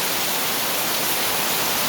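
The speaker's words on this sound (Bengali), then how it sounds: "এই যে দেখুন কি বৃষ্টি হচ্ছে" Heavy rain pours down at night in Sylhet, a steady, dense hiss that fills the whole stretch with no pauses and no voices.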